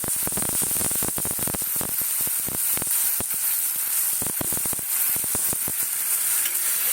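Onion with ginger, garlic and green chili paste fries in a pan, loud, continuous bright sizzle, with scattered crackles and stirring scrapes throughout.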